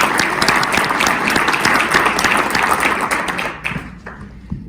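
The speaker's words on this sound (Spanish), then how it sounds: "Entonces también un aplauso" An audience applauds at a 2020 real estate experts' event in Mexico, dense and close for several seconds before thinning out toward the end.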